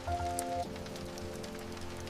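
Soft, steady rain falls through the night as an even wash of patter, with a faint sustained tone at the very start and no voices.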